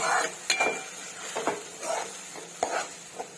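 Coarsely ground tomatoes cook in oil in a pan, giving a soft sizzle broken by several close spatula scrapes and light clinks against the pan.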